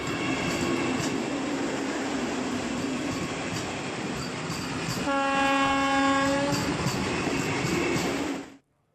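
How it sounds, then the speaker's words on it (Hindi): A Vande Bharat metro train on its trial run passes loudly and steadily, with rolling rail noise and a sustained multi-tone horn blast midway, before the sound cuts off abruptly. "पहली वंदे भारत मेट्रो ट्रेन का सफल ट्रायल हो गया है।"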